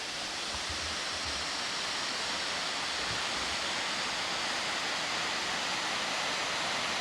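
A waterfall near a campsite outside Staunton, Virginia gives a steady, dense roar of rushing water that stays constant throughout, heard up close with nothing else over it.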